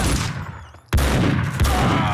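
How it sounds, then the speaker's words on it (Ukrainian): Gunfire in the video game Max Payne 2, two sharp loud shots less than a second apart, each with a short ringing tail, over a low game background. "Давай стріляй, Джонні!"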